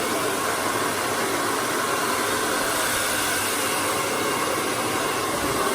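A hair dryer blows steadily and close up while hair is blow-dried with a round brush, a continuous loud airy roar with no breaks and no talking.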